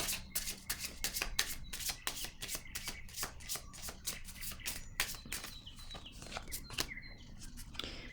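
Tarot cards being shuffled by hand at close range in a series of quick, crisp riffling flicks and soft slaps, steady and rhythmic, at fairly low volume with no talking.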